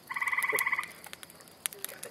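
A rapid trilling call from a frog rattles for nearly a second, followed by a few scattered clicks and taps in a quiet setting.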